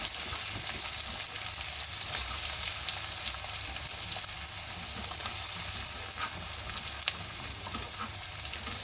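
Chopped onion fries in oil, with ginger and garlic paste, for a prawn-stuffed pointed gourd dorma. The sizzle is steady, dense and close, with faint stirring scrapes throughout and no voices.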